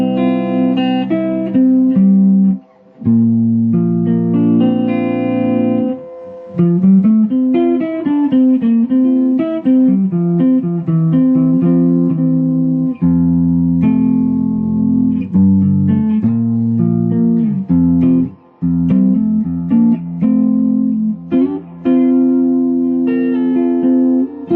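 An electric guitar plays through two Supro amps, dry and with no effects pedal: a clean, sustained melodic line of single notes and chords that rings loud and close for a long stretch, with no talking.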